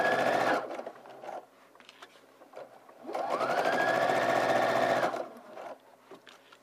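Domestic sewing machine stitching the lining of a sleeveless dress along the armhole from shoulder to side seam, heard in two steady close runs with a short pause between them, with no talking.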